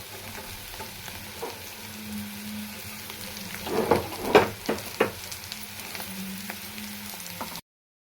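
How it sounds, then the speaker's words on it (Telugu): Thinly sliced onions fry in a pan for Andhra-style bitter gourd stir-fry, a soft steady sizzle with a cluster of louder stirring clatters in the middle before the sound stops abruptly. "ఇప్పుడు సన్నగా తరుగుకున్న ఉల్లిపాయలు వేసి"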